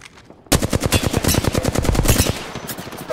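Rapid automatic gunfire in a video game shootout, a loud close burst of fast evenly spaced shots that starts abruptly and runs for nearly three seconds with no talking.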